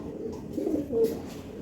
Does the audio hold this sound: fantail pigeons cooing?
yes